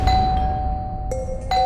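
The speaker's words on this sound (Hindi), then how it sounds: "ये कौन घंटी बजा रहा है?" An electronic doorbell chimes twice, a clear two-tone ding-dong repeated after a short gap, over a quiet low background hum.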